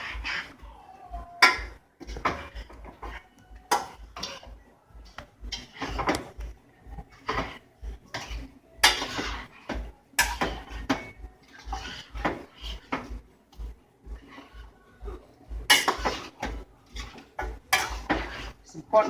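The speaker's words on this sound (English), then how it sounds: "So this is our spinach. I'm gonna stir it." Spinach being stirred into a pot of egusi soup: a steady run of close metallic spoon clanks and scrapes against the pot, repeating irregularly about every half second, with occasional brief talk.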